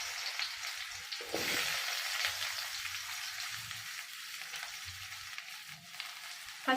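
Onion pieces frying in hot oil for mutton biryani, a soft continuous sizzle and crackle at moderate volume, with faint low bumps of the pan and a brief stirring scrape.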